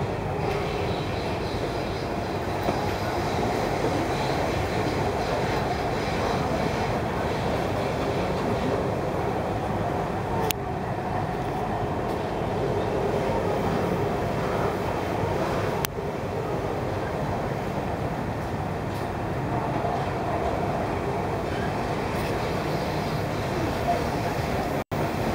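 A Dubai Metro train rides between stations after leaving the airport's Terminal 3, with a steady loud rumble and wheel noise throughout and a couple of faint clicks.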